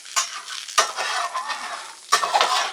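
Hot dogs fry on a hot griddle with a steady close sizzle, broken by three sharp scraping strokes of a metal spatula turning them.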